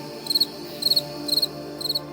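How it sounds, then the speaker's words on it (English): Crickets sing during a total solar eclipse: four evenly spaced, high trilled chirp bursts pulse clearly over a quiet background, with no voices. "I will never forget hearing the crickets coming out and singing during the"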